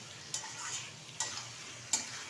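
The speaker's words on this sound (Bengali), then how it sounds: "ভালোভাবে কষিয়ে নিচ্ছি।" Young jackfruit being stir-fried with spices in a wok, a faint low sizzle broken by three soft scraping stirs spaced evenly about a second apart.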